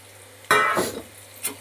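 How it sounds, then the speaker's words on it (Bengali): Potatoes frying in a pan for a mushroom dish, a sudden loud sizzle as they hit hot oil, settling into a crackling fry with a stir-like scrape, close and alone. "আলুটাকে আগে ভেজে নিই।"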